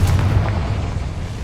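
A Confringo fire spell explodes in the Hogwarts Legacy video game, a loud, deep booming blast that rumbles and fades over a second and a half.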